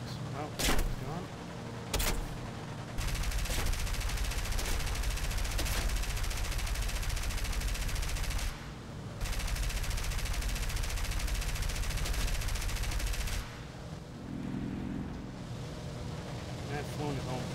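Sustained gunfire during an air attack in War Thunder, with a Dornier 217 J1 facing a MiG-9, forms a dense continuous roar over engine drone, with brief gaps and a quieter stretch near the end.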